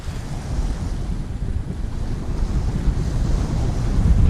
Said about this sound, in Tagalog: pagkalakas ng hangin dito sa lugar dito